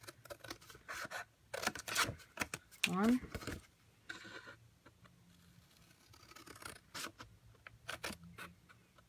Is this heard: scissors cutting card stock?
yes